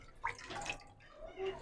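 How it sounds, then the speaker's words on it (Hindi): Water is poured into a pot of kadhi (yogurt curry with pakoras) on a stove, giving a faint, brief splash and trickle with a couple of soft bursts in a quiet kitchen. "मैं इसमें तकरीबन 1 बॉल के करीब और पानी शामिल करूँगी इस तरीके से"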